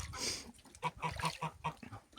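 A small goose among a flock gives a run of short, honking calls in quick succession, close and fairly quiet, with no talking.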